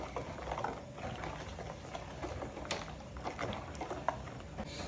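Sliced strawberries stirred with water and unwashed raisins in a pot, being prepared for strawberry wine: a steady, soft liquid sloshing and bubbling patter with occasional light knocks, close and alone throughout.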